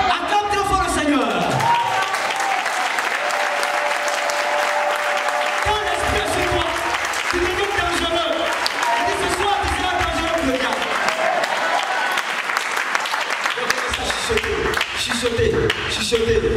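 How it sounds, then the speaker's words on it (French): A church congregation applauds loudly and continuously, a dense wash of clapping with cheering voices and music carrying on underneath throughout. "Acclame très fort le Seigneur."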